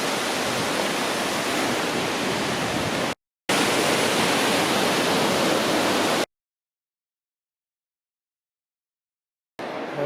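River rushing below Vernal and Nevada Falls on Yosemite's Mist Trail, running high after recent rains: a loud, steady roar of whitewater that drops out for a moment, then cuts to silence for several seconds before returning briefly.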